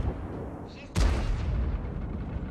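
A tank cannon fires in the World of Tanks video game, one sudden loud boom rolling out into a rumbling tail over a low battle background.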